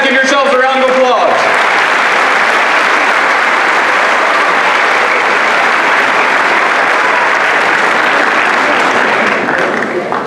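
Sustained loud applause from an audience of boys at an evening gathering, dense and steady for about ten seconds after a brief burst of voices at the start.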